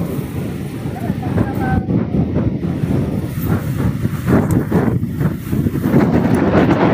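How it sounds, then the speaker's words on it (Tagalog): Strong wind roars and buffets the microphone continuously, loud and close, with no pause throughout. "Ang lakas talaga ng hangin."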